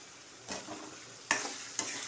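Chopped brinjal sautés with softened onion and tomato for a Tamil oil brinjal curry, a soft continuous sizzle broken by three distinct clattering stirs in the pan.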